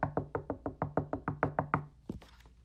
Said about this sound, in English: Listen, someone knocks.